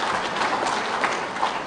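Crowd applause at a political rally in Ranchi, steady dense clapping from a large audience filling the whole moment without pause.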